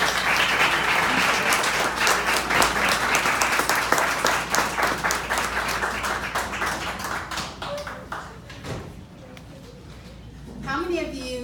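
An audience applauds as a speaker is welcomed to the stage at an arts talk. The clapping is dense and sustained, then thins out and fades as a speaker's voice comes in near the end.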